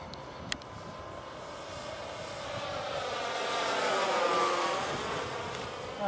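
A Hobbyking Rare Bear 1400mm RC model airplane flies overhead. Its steady electric propeller whine rises and falls as it passes, with wind noise throughout.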